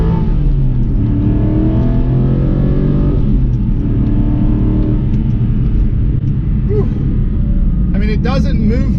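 An Aston Martin Vantage with a 4.3 liter V8 revs high, a loud close engine roar with rising and falling harmonic sweeps, under someone talking throughout.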